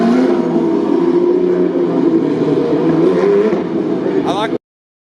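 Race car engines rev on a starting grid, a loud close blare of overlapping engines holding steady before cutting off abruptly, with voices mixed in.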